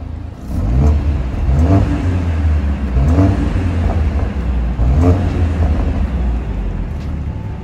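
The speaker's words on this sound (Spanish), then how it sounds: "Nomás a 3000 revoluciones ya se escucha el petardeo, es espectacular" A Mercedes-AMG A45 S hatchback engine revs hard in repeated surges to around 3000 rpm, loud and close, with rough crackles on the exhaust between pulls.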